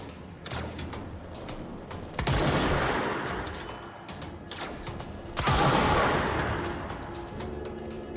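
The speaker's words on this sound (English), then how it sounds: "I'm trying to headshot people with with Pierce" Two loud bursts of gunfire from the Pierce service weapon in Control, each a sharp crack followed by a long rumbling tail, spaced about three seconds apart over a quiet background, no talking.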